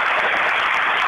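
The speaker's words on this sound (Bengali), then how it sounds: "অসাধারণ, জোরদার হাততালি।" Loud, sustained applause from a crowd at a Valentine's Day radio show, a dense unbroken clatter of clapping hands with no pauses and no voices.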